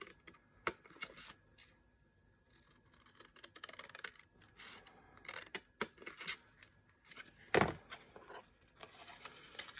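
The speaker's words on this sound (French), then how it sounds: "je vais prendre mes ciseaux et je vais couper à 1 mm de chaque côté de mon trait" Scissors snip through decorative paper during an advent calendar craft, cutting along both sides of a drawn line: quiet, irregular crisp clicks and snips, with one louder sharp cut near the end and no talking.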